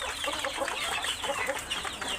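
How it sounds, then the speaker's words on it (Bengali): Pahari crested roosters and hens on a farm cluck in a busy, steady chorus of short repeated calls, fairly close, with no talking. "একটা গলাশিলা পাহাড়ি মোরগ লাল মোরগ আর একটা পাহাড়ি ঝুঁটিওয়ালা মোরগ"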